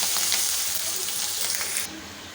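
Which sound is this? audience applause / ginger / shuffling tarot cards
ginger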